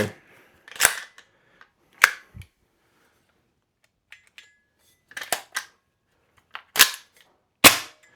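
An EMG CGS DDM4 PDW airsoft gun with an MWS magazine fires in sharp, sparse bursts and single cracking shots, loud and close, with quiet gaps between them.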